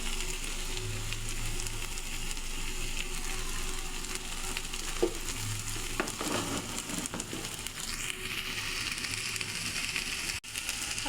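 Rohu fish frying in oil with bean seeds sizzles steadily in a pan, a close, even crackle lasting throughout, broken by a few clicks and scrapes of turning and stirring.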